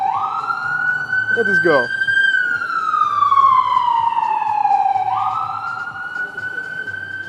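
An ambulance siren passes close by in a wailing, rising-and-falling sweep over road noise, loud throughout, while someone speaks briefly partway through.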